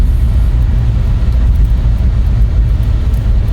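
Citroen C-Zero electric car accelerating at full throttle, a loud, continuous low rumble of road and drive noise with no voices.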